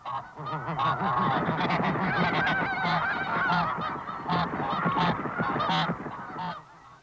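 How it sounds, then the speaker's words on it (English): Snow geese and blue geese squabble over nesting territory, a loud, dense chorus of overlapping honks that keeps going throughout, with several birds calling close together. "Each pair has to establish its own nesting territory."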